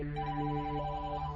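A telephone rings with a repeating electronic trill, steady and fairly quiet, without any talking.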